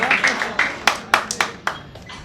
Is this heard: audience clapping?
yes